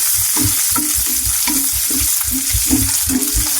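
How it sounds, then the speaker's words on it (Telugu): Onion, green chilli and curry leaves fry in a hot pan for a tomato egg curry, giving a steady close sizzle broken by regular scraping stirs of a spoon against the pan, with no voices. "ఆనియన్ పచ్చిమిర్చి అలాగే కర్రీ కర్రీ లీవ్స్ కూడా మంచిగా ఫ్రై అయ్యాలి"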